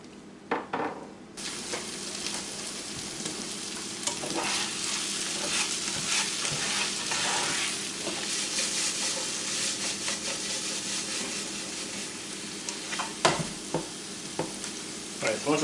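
Mushrooms sauté with garlic and horseradish in a hot pan, giving a steady close sizzle broken by occasional stirring scrapes and utensil knocks.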